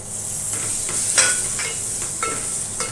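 Dried river fish hit a hot pan with coriander powder and spices, giving a soft sizzle with a few quick stirring scrapes and clinks, close and without talk.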